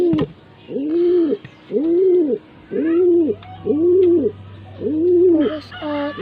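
Pigeons coo close by in five evenly spaced, rounded phrases with brief pauses between them, and a faint low hum sits underneath.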